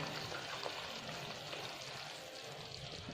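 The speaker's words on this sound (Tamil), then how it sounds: "ரெடி ஆயிடுச்சு அல்வா ஊற்றிடலாம்" Sago halwa made with ghee is poured out of a nonstick pan, giving a soft, continuous, faint pouring sound up close, with no voices.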